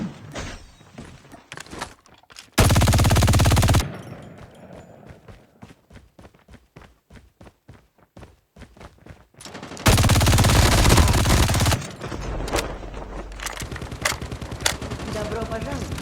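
Rapid machine gun fire in the mobile shooter Call of Duty Mobile, battle royale mode: fast, evenly spaced shots in a sustained burst, framed by loud, dense roaring noise before and after.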